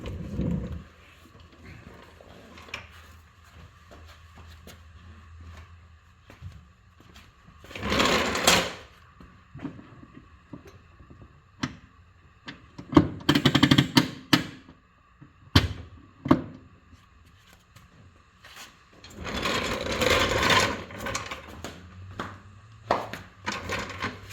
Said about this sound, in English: I'll go ahead and I'll pull the emergency brake, and you can see how it operates.